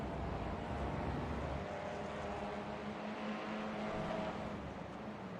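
Race cars at Twin Ring Motegi in the iRacing sim crossing the line, a steady engine drone with sustained high-revving tones that hold fairly constant throughout, no voices.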